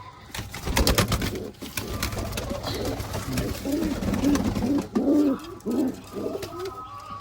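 Pigeons coo repeatedly nearby, low throaty calls rising and falling over a steady background of rustling and soft clatter.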